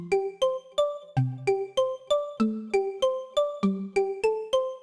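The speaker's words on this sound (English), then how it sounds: "Lead Karimba, the name speaks for itself and it sounds like this." Plucked synth kalimba lead for tropical house taps out a bouncy melodic pattern of about fourteen short, bell-like notes with quick decays, clear and close with no voices.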